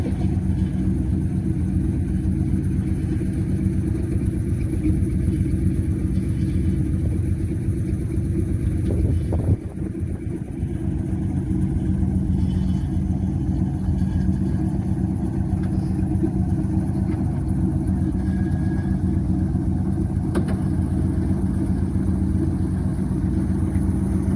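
A wrecker tow truck engine idles and rumbles steadily nearby for a long stretch as it backs up, with a brief dip and shift midway, no talking.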